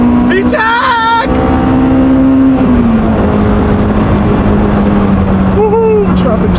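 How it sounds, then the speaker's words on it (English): A 1999 right-hand-drive Honda S2000 engine climbing in revs with a steady rising drone into VTEC while driving, fairly loud and continuous, with a man's exclamations over it. "God, VTEC sounds so good"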